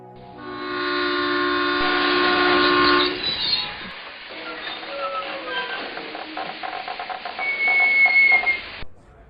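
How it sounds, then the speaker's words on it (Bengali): A train pulls into a station, opening with a long, loud horn blast and followed by the rumble and clatter of wagons with squealing brakes and a brief whistle, used as a story sound effect. "যথাসময়ে ট্রেন এসে স্টেশনে দাঁড়ালো"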